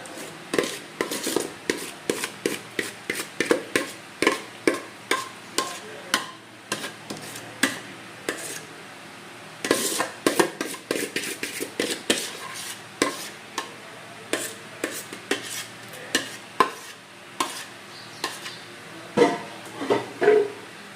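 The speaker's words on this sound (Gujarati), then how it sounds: "બટેકા મિક્સ કરી દઈએ" Potato gets mixed into ginger-chilli paste and salt in a bowl, a rapid series of wet, clicking spoon strokes and scrapes repeating in uneven bursts, close and moderately quiet.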